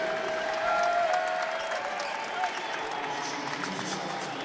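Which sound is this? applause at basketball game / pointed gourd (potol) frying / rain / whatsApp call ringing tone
applause at basketball game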